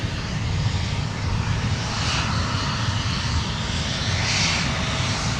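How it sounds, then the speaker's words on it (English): Airliner touching down gently on runway 12 right at Minneapolis–St. Paul airport, a steady low engine rumble and rushing air filling the whole stretch with slight swells, no distinct touchdown thump standing out. "And a gentle landing."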